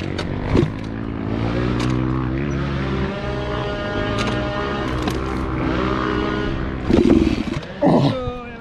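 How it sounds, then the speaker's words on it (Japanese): A modified Yamaha Serow trail motorcycle engine idles and revs close by at a hard enduro race, a harmonic rumble that rises and falls, with sharp bursts and clanks near the end. "とりあえずエンジンかけますわ。"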